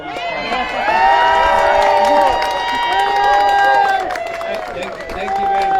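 A rally crowd in Olympia protesting budget cuts cheers and claps, with loud whoops and shouting voices over steady applause that swells and eases in waves.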